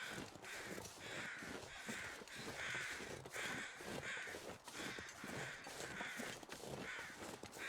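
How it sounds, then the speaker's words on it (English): Crows in The Long Dark video game caw repeatedly in a regular series of harsh, rasping calls over a soft outdoor wind bed, the calls coming roughly every half second. "I wish these crows would shut up so I could listen for bear crows"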